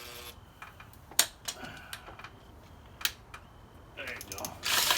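Clicks, ratcheting and metallic tool taps come in irregular bursts as a bolt is removed from a Honda 7.5 hp outboard powerhead, with faint background noise between the louder hits.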